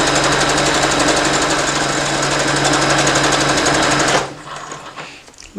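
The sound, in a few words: sewing machine basting romper pocket with stretch stitch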